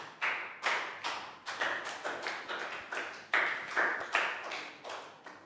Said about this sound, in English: a round of applause too